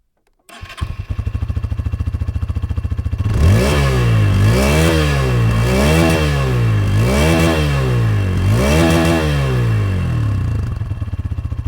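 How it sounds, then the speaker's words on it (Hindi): A 2025 Hero Xtreme 160R 4V motorcycle starts up and settles into a loud idle, then its exhaust is revved in four sharp throttle blips, each rising and falling, close to the mic. "आपको इसका एग्जॉस्ट नोट सुनाता हूँ"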